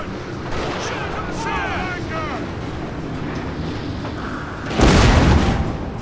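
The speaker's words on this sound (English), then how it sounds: "I ready a broadside and just plow it into the back of his ship" Broadside cannon fire from a ship in the Shogun 2 naval battle game, a sudden heavy booming blast that follows earlier whistling effects and background game ambience, with a person talking over it.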